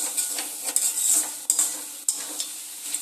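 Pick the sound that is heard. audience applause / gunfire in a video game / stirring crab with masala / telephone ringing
stirring crab with masala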